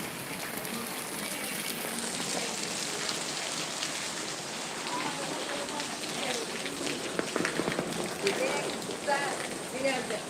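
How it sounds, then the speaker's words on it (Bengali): Heavy rain hisses steadily outdoors, a broad continuous wash of drops, while a person speaks over it at moments. "প্রচুর বৃষ্টি বাইরে"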